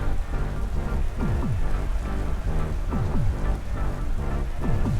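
Rain weather during a Pokémon video game battle hisses steadily and loudly, a dense wash of rainfall with no talking, while soft repeated descending game tones sound underneath.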